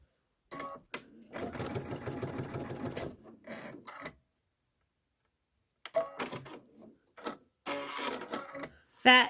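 Sewing machine running a short stitching burst while a Kimberbell pillow is assembled, a quick mechanical whirring patter, then scattered clicks and handling noises with someone speaking softly nearby.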